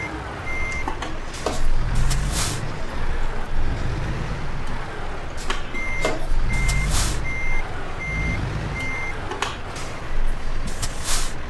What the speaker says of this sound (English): So we're basically backing the trailer up.